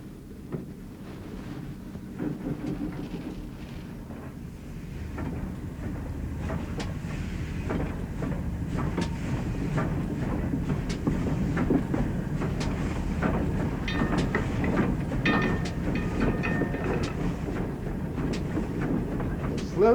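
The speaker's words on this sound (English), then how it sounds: "Slow train in the Dart Valley." A steam train on the Dart Valley railway rolls along at slow speed, a steady rumble with rhythmic clicking of wheels on rail joints that builds gradually in loudness over the run.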